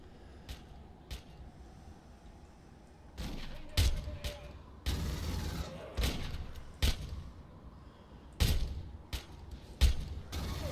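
Enemies firing in Aliens: Colonial Marines, a sequence of heavy thumping shots and bursts arriving in irregular clusters after a quieter opening, loud and close.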